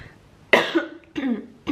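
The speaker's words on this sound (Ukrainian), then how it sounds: "Бачите, трошки ще кашель є" A few short, close coughs in quick succession, sharp and raspy, with brief pauses between them.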